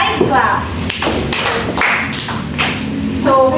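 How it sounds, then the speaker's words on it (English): A classroom group clapping together in a short series of claps for a student during an English class demonstration, mixed with some voices. "let's give Janelle 5 claps."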